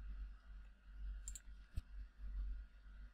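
A single computer mouse click on an OK button in Photoshop sounds once, short and sharp, midway through an otherwise near-silent stretch.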